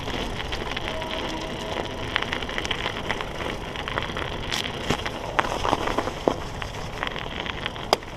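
Tires on a Cannondale F4000sl mountain bike crunch over ice on a night ride, a steady gritty crackle with sharper snaps and cracks popping out near the end.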